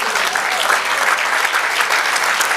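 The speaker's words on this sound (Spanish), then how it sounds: "Denle un aplauso al Señor." A church congregation breaks into applause, dense, continuous clapping from many hands filling the room at a steady, fairly loud level throughout.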